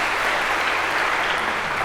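A lecture hall audience at a Harvard computer science course gives a short, dense round of applause, loud and uniform with no voices over it.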